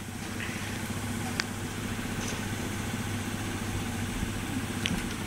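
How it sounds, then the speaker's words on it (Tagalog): An engine idles in a steady, continuous low rumble with a faint mechanical hum, unchanging throughout and moderately close. "Ayan ang makina ko."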